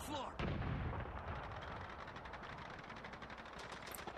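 Enemy gunfire in Call of Duty 2 sounds as a steady, dense barrage of booming shots and rattling bursts, loud and continuous throughout, with a heavy blast near the start.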